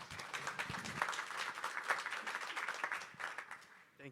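Audience applause greets a panel speaker at a RISC-V tech conference. Dense, steady clapping from a crowd lasts about four seconds, then trails off as a voice begins to speak.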